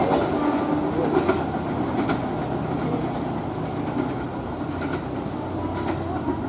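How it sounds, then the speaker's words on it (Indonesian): A train speeds past close by through a narrow alley, its wheels keeping up a loud, steady rumble and rhythmic clickety-clack on the rails the whole way through. "Keretanya ngebut-ngebut banget."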